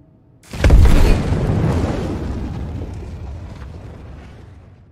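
A ship exploding in a space combat video game during a laggy server test, heard as one loud, sudden, close boom followed by a long rumbling decay lasting several seconds.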